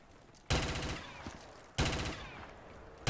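Automatic gunfire in a Call of Duty custom zombies match, two loud sustained bursts of rapid shots with a short pause between them and a third burst starting right at the end.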